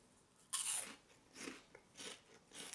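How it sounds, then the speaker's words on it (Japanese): Cabbage Taro corn puff snacks being eaten, a sharp first crunch followed by several softer chewing crunches close by in a quiet room, no talk. "キャベツ太郎食べるか。"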